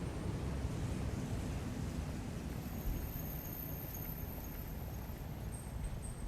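Ocean waves washing onto a coast fill the tail end of an album track, a steady broadband surf wash holding at an even level for several seconds, with no voices.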